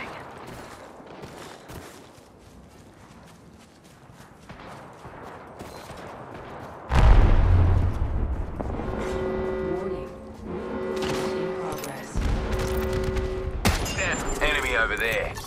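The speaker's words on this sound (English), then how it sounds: "Knuckle cluster's firing." Fuse's Knuckle Cluster fires in Apex Legends amid loud, dense gameplay: a sudden heavy burst of explosive blasts and crackling impacts after a quieter stretch, with repeated mechanical tones and sustained combat noise continuing to the end.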